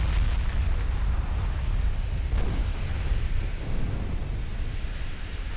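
A warship blows up from flash fires in a naval battle in the game Ultimate Admiral: Dreadnoughts, a heavy, continuous rumbling roar of explosions and gunfire, loud and steady, without voices.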